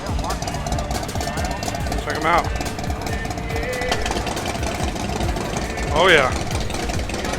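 Motorcycle engines run and idle at an outdoor spring motorcycle show, a steady mechanical rumble with a couple of brief revving rises. People talk close by over the engine noise.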